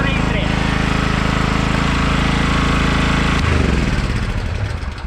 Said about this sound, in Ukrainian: Так що генератор працює досить непогано.